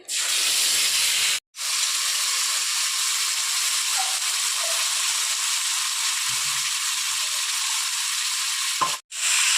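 A paste of cumin, ginger and dry chilli hits hot oil and sizzles loudly with a steady hiss, cut by two brief silent gaps, one near the start and one near the end.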